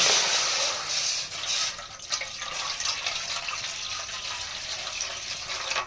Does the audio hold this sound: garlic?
no